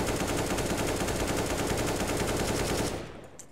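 A sustained burst of rapid AK-47 automatic fire in CS:GO, a dense unbroken rattle of gunshots lasting about three seconds before cutting off abruptly, loud and close.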